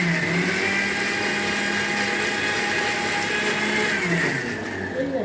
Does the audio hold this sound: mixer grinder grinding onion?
yes